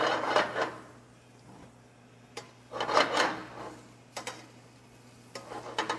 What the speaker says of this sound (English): you want to make sure that you scrape it to get as much of it as possible